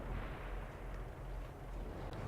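Tank cannon fire in the video game World of Tanks, a deep, heavy boom rumbling out over about two seconds, loud and alone with no talk.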